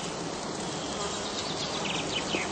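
Honeybees around heather skeps at a heathland apiary give a steady, dense buzz, a continuous hum with faint individual bees passing near.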